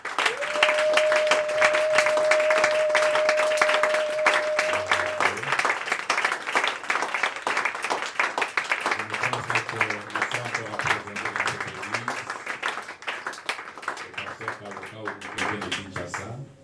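A church congregation applauds in a dense, continuous wash of clapping that lasts throughout, loud and full, with an electronic tone held at the start and low musical notes entering partway through.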